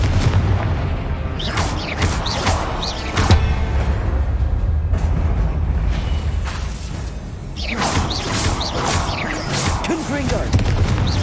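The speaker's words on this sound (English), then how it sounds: "Confringer!" Confringo explosive spell in the Hogwarts Legacy video game, fired again and again: a series of loud booming blasts with whooshes and rumbling impacts spread across the stretch, close and forceful, over a constant low game din.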